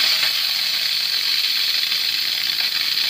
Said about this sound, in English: I'm going to release the steam.